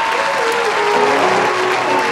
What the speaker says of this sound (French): je vous demande d'applaudir une nouvelle fois